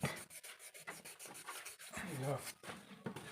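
Rhythmic, scratchy strokes of sandpaper rubbing back and forth on a part of an old National stand fan, close and fairly quiet, with a brief voice in the middle.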